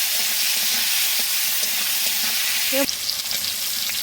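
Tomato, green chili, onion and bay leaf frying in a spice masala, a loud continuous sizzle with stirring scrapes and a brief clatter near the end, with no talking.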